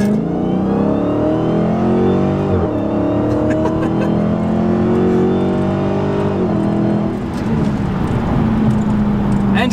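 A Dodge Hellcat accelerating hard from a launch up to 50 km/h, its engine roaring loud and close with rising revs that drop at each gear change.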